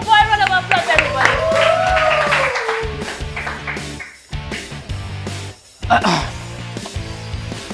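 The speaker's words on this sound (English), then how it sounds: "Round of applause, everybody." An audience gives a round of applause to welcome a speaker at a public-speaking event, with clapping and cheering mixed with music and voices, loud throughout and dipping briefly near the end.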